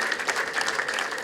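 Wedding guests at a Rwandan bride-giving ceremony break into steady, close applause mixed with crowd noise, a dense clapping wash with no clear talk on top.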